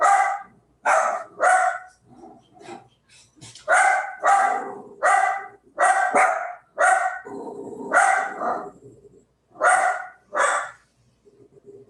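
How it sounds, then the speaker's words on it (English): Dogs bark repeatedly and loudly in close, irregular bursts of sharp barks with short gaps, a few softer yips in between, alone with no talk. "So sorry, there must be dogs walking by."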